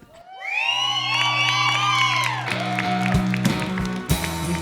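An audience at a live performance cheers loudly, with high whoops and shouts swelling over a sustained roar and scattered clapping toward the end.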